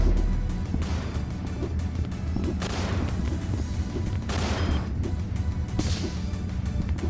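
Rapid sniper rifle fire in the video game Rec Room, loud repeated shots and crashing bursts over a dense, continuous background of game noise.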